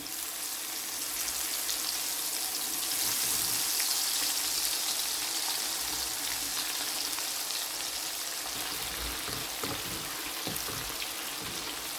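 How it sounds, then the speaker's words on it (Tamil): Oil sizzles and crackles steadily as dried anchovies fry, a dense hissing sputter that holds constant throughout. "அதே எண்ணெயில் நான் நெத்தலி கருவாடையும் போட்டு பொரிக்கிறேன்."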